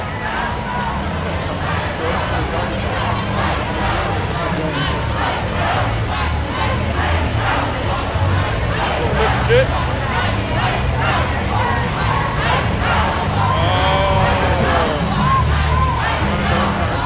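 A large crowd on a protest march against ICE in Minneapolis, streaming past with a constant roar of voices, chanting and shouting, loud and close throughout with occasional cheers rising above the babble.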